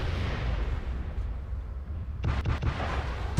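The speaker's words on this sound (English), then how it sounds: "That Gauss explosion had to hurt." A Gauss rifle explosion in the video game MechWarrior Living Legends: a steady, loud low rumble of battle noise, broken near the end by several sharp blasts in quick succession.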